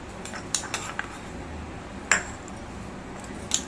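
A few light metallic clinks of a tablespoon ring out against a glass while adding fruit for a custard milkshake, scattered and sparse over a quiet hiss, one sharper tap standing out midway.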